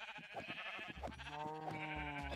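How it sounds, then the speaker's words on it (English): Sheep bleat in Minecraft survival mode (version 1.18.1). Several wavering bleats overlap in quick succession at a low, soft level. "that was a sheep. That was sheeps."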